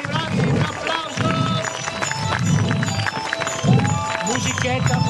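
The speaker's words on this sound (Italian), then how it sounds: "Giorgio e Marco, un applauso fantastico!" Steady, loud audience applause at a Corrida amateur talent show in Castenedolo, dense clapping filling the whole stretch beneath cheering, music and voices.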